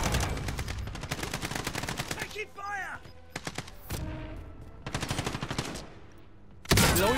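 Rapid automatic gunfire from Call of Duty: Modern Warfare rattles in dense bursts, broken by a short pause and brief interface tones, then resumes loud and close before a final sharp blast.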